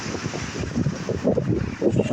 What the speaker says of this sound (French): J'attends que le vent se calme un peu